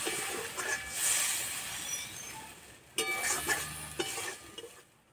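Water splashes into a hot pan holding a spinach and gram flour dish, setting off a loud, steady sizzle and hiss that swells and surges in short bursts, close up with no talking.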